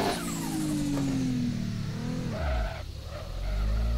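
A Toyota Supra engine in a racing video game idles with a low rumble, then revs up with rising harmonics before dropping back and surging again, loud and close.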